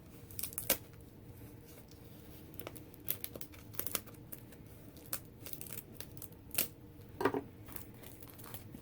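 Scissors snip through paper from a card-making kit at close range, a few sharp crisp cuts and crinkles scattered among faint handling noises, with no talking.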